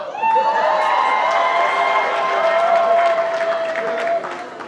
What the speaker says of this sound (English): Please give both of them a resounding round of applause.